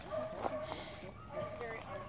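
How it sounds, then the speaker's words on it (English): Dogs meeting during a temperament test with other dogs give short yips and whimpering bow-wows, moderately close, mixed with indistinct voices and room noise. "We're testing Lacey with other dogs."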